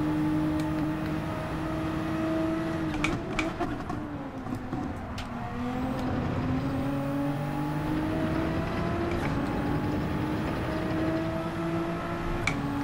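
A Group 3 race car engine roars in Gran Turismo 7 at Watkins Glen long course, a continuous loud drone with rising and falling pitch through shifts and throttle changes, no talk.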